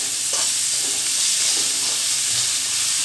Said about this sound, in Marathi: छान ब्राऊन कलर होईपर्यंत भाजून घ्यायचा आपल्याला कांदा।